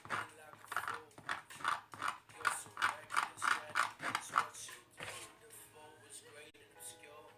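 Paint scraped across an artist's palette while mixing colors for a color wheel, a rhythmic run of about ten close raspy strokes that then trails off into quieter background.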